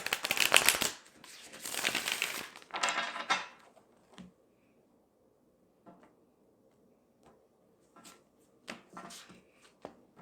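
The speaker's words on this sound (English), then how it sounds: "One more shuffle." Cards being shuffled, a few loud riffling bursts at first, then quiet clicks and soft taps as the deck is handled.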